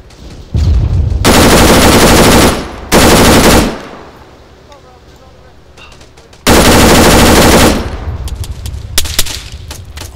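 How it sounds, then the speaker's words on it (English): Loud, close automatic gunfire in the video game Arma 3 Wasteland: long sustained bursts separated by short pauses, with scattered quieter shots trailing off near the end. "Shots on me!"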